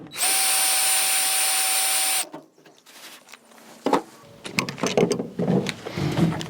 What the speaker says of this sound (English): So just continue drilling until this rivet comes clear.